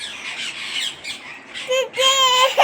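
A parrot gives harsh, repeated squawks, fainter at first and then louder, sharper calls near the end, with voices talking nearby.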